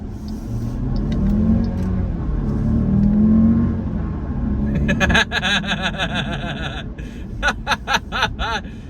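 Jeep Grand Cherokee 4xe plug-in hybrid taking off hard, a low steady rumble building under the cabin, followed by excited exclamations and laughter from the driver.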